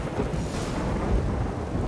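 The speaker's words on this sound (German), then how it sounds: "ein Gewitter ist laut" A thunderstorm in The Witcher 3 game: a low, rolling rumble of thunder over a steady wash of rain, fairly soft and continuous.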